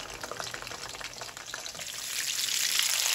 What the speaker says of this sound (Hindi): तो देखिए 4 से 5 मिनट के अंदर कितने ज़बरदस्त से ये फ्राई हो गए हैं।